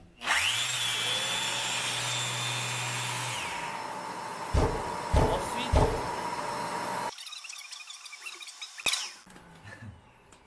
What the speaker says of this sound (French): l'aspirateur s'allume automatiquement quand on allume la ponceuse